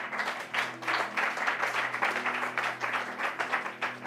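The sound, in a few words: congregation applauding in church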